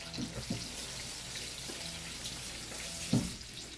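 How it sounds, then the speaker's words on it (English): A kitchen tap runs steadily while hands are rinsed under it, with a few soft splashes and clunks nearby. "gonna rinse my hands"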